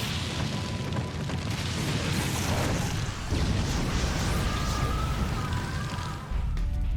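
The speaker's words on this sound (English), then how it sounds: "Fire stun! Giant flame bomb!" A roaring fire explosion from the video game Naruto Ninja Storm 2, with dense sustained rumbling blast noise throughout, loud and continuous with a brief dip near the end.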